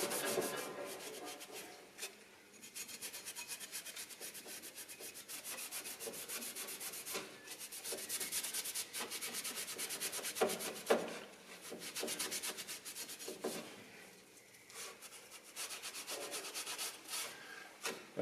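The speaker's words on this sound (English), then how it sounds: "we need to clean up the mating surface on the front of the block. And we like to use Scotch Pad for this." A Scotch Pad rubs in quick, repeated scrubbing strokes across the front mating surface of a Volvo Amazon B18/B20 engine block, a close, dry, abrasive rasping.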